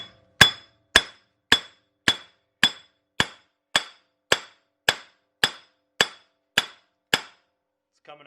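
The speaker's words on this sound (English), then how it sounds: "So I just started hitting it with a hammer." A hammer strikes a seized rear wheel hub on a Suzuki King Quad 300 about thirteen times in a steady rhythm, each blow a sharp ringing clang, close and loud, with brief quiet between hits.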